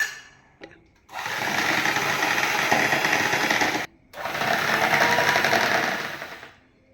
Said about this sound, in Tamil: இப்போ நம்ம பட்டரை நல்லா பீட் பண்ணியாச்சு